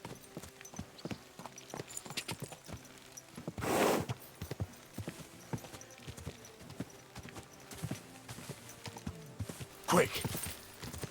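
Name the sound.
horse hooves walking in video game Kingdom Come Deliverance 2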